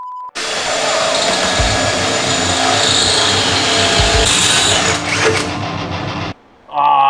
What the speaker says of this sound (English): I love drilling through steel